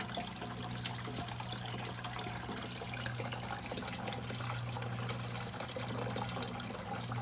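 Water draining and trickling in a hydroponic flood and drain system, a steady, continuous rushing flow that holds evenly throughout with no voices.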